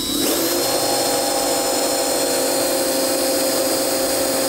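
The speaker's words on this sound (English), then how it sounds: "I'm going to look for a smaller drill bit and do a pilot hole first." Power drill boring a pilot hole with a small bit into a soda machine panel to mount a Nayax VPOS Touch credit card reader, a loud steady high whine running without a break throughout.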